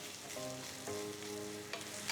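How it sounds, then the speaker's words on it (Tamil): Crushed ginger and garlic fry with onions in a pan, giving a soft, steady sizzle with faint stirring scrapes, fairly quiet throughout. "இதில் 2 ஃபுல் டீஸ்பூன் தட்டின இஞ்சி பூண்டு போடுறேன்."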